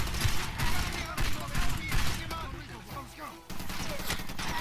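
Rapid bursts of gunfire in Far Cry 2, loud overlapping shots and fusillades with a brief lull before firing resumes, mixed with game sounds and a voice talking.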